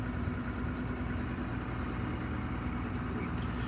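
John Deere combine harvester engine idling steadily at close range, a continuous low rumble with a mid-frequency drone, loud and unbroken throughout.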